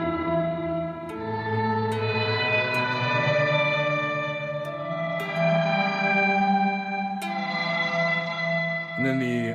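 A guitar runs through a reverb pedal with the mix set fully wet, giving sustained, washed-out chords that blur into one another. Each new strum lands softly into a continuous ambient wall of reverb, with no voice.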